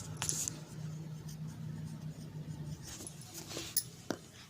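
Pen or pencil scratching numbers onto paper during a third-grade maths lesson, a soft close scratching with a few sharper taps, over a faint steady background hum.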